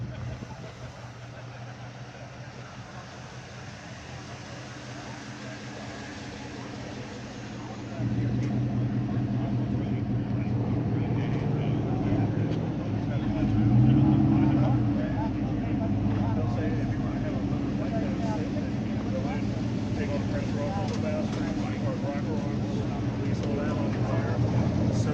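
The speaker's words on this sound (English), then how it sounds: "We still have some cars coming around here, cars and stuff coming in here too" Cars roll in to a car show cruise-in at Jimmie Cone in Mount Airy, Maryland. Engines idle and rumble nearby. The sound grows louder partway through, with one vehicle surging briefly, over faint ambient noise.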